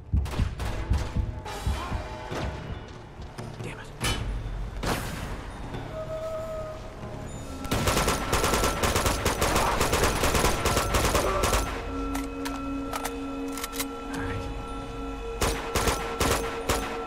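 Shotgun blasts and bursts of automatic gunfire from the Uncharted 2 video game crackle in dense volleys, sharp loud reports scattered across a rumbling battle din, with no talking.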